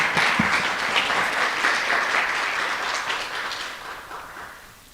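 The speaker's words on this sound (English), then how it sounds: "Give some applause to the nominators." An audience at a student leadership awards ceremony applauds the nominators with loud, dense, sustained clapping from a full room, tapering off near the end.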